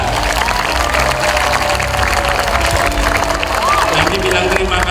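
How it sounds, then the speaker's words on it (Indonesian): At a school meal gathering, a crowd of children and adults claps loudly for the mothers who prepared breakfast. The busy, continuous clapping is mixed with scattered cheers and chatter. "kita beri tepuk tangan buat ibu-ibu kita"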